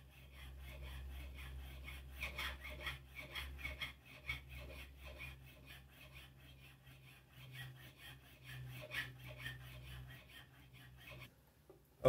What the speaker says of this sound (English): So I'm now going to begin filing.